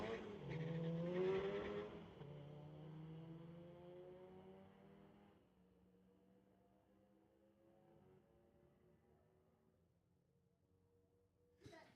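A Volkswagen Golf and a Honda in a drag race at a street-legal night at a raceway, engines revving hard and fading as the cars pull away into the distance, ending with a faint distant sound.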